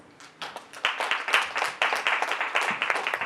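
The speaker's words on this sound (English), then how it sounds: "you can give him a round of applause" Audience applause at a book launch event, a burst of many hands clapping that builds quickly and holds steady and fairly close, with no talk over it.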